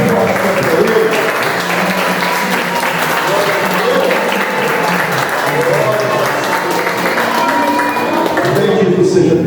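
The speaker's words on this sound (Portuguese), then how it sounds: "Aplaude forte para Ele." A church congregation at a garage worship service applauds loudly and continuously for nearly ten seconds, thick sustained clapping with voices faintly mixed in beneath.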